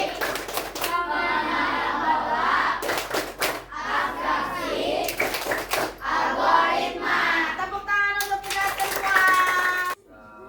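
Children chant and clap the rhythmic 'tepuk KKA' routine in a coding class, sharp bursts of hand claps in patterned groups alternating with loud shouted chanting, ending abruptly.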